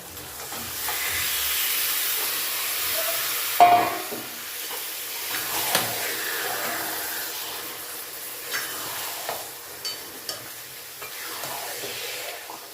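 Mutton pieces frying and sizzling in a spice masala, a steady hiss of moderate loudness with occasional stirring clatters and sharp pops throughout.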